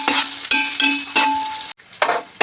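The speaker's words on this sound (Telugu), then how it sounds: "కొంతసేపు అయితే వేయించుకుందాం మనం" Half-moon onion slices for pala kodi pulao fry loudly in a pan, a bright close sizzle broken by stirring scrapes and a brief pause before the crackle returns.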